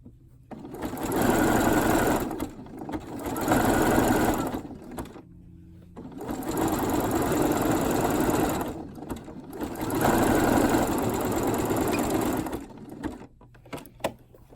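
A sewing machine topstitching a brief runs in several steady, loud bursts of rapid mechanical whirring, each a couple of seconds long and separated by short pauses, with no talking.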